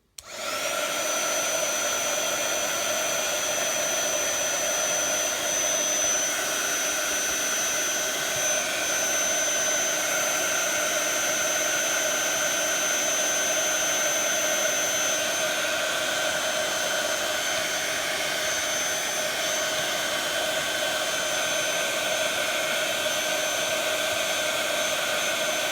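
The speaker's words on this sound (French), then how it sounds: "Vous prenez votre heat gun et la magie." A heat gun blows hot air onto a disc of shrink plastic for homemade tokens, giving a loud, steady hiss with a faint whine that runs unbroken from start to finish.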